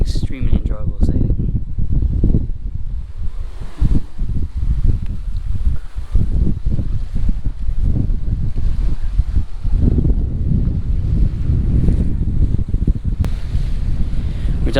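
Sailboat running under genoa alone, no mainsail, on a broad reach in 15 to 20 knots of wind over flat water; steady loud wind buffeting and rushing water noise fill the whole stretch, with no talk.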